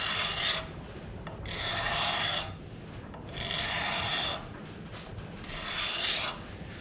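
A blade scrapes clear coat off the old wooden handle of a sledgehammer in four long, steady rasping strokes, close and alone, separated by short pauses.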